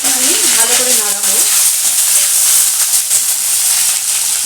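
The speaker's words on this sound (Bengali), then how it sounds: "এখানে দিয়ে দিচ্ছি আমি পেঁয়াজ। এটাকে এখন আমি ভালো করে নাড়াবো।" Onions sizzle and fry in hot oil with bay leaf in a pan for a restaurant-style mutton kosha, with a steady loud hiss and brief stirring scrapes near the start.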